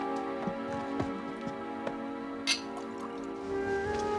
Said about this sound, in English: Pour Mr. Glossop another desperate measure, will you, Jeeves?